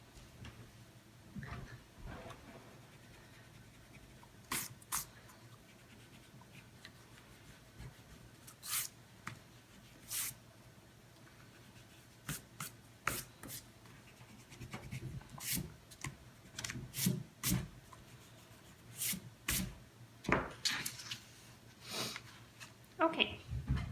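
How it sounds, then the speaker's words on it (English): A pencil eraser rubs over paper in short scratchy bursts and sweeps that come and go, close and soft, over a faint steady hum. "I am going to erase some of my pencil lines that I didn't trace"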